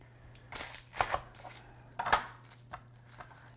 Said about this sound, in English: We're going to slice our 1 red onion.